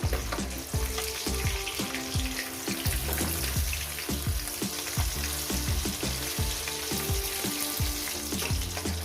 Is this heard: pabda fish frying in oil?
yes